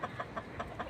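Chickens in a poultry coop give quick, evenly spaced clucks, about five short pulses in a second, fairly faint and close with no talking.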